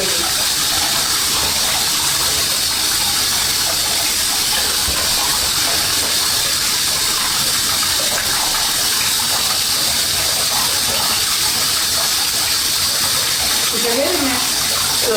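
A hotel-style shower runs steadily while a dog gets a bath, giving a constant close hiss of spraying water throughout, with a voice talking softly over it.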